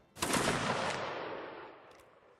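A single massed volley from an infantry platoon firing on command, one loud sharp blast with a long rolling decay that fades over about two seconds, heard outdoors.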